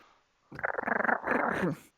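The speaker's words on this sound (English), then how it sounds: "Seems like he's growling at you." A dog growls up close in a low, rumbling throaty snarl, pulsing at first and then drawn out for about a second and a half, loud and clear with no talk over it.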